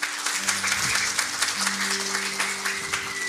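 Church congregation clapping in praise during a worship service, steady dense applause over a sustained organ or keyboard tone, moderately loud and continuous throughout.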